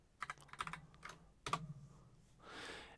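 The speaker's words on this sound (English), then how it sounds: "and just type in terminal" Someone types on a Mac computer keyboard: quiet, close keystrokes come in a few quick clusters with pauses between, then a brief soft rustle.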